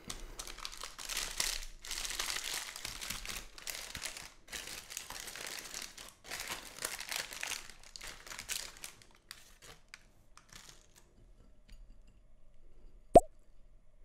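A packaged Gideon's Bakehouse Cookie Butter Butterscotch cookie is unwrapped, with close, soft plastic wrapper crinkling and rustling in irregular bursts for several seconds, then quiet, broken by one sharp tap near the end.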